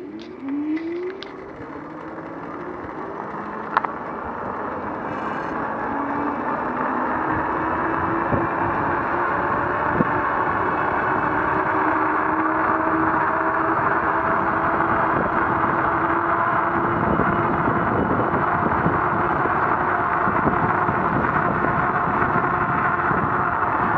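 A Sondors fat tire electric bike with a 48v upgrade accelerates on throttle, its motor whine rising in pitch and then holding a steady, loud hum with rushing wind and road noise for about twenty seconds.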